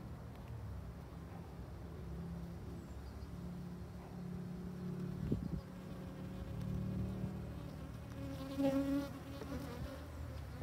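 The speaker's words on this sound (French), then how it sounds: "ça c'est une ruche peuplée avec une lignée, une F2 Buckfast" Buckfast-line honey bees, an F2 colony in an open hive, buzz in a continuous, fairly faint drone with a few individual bees flying close past.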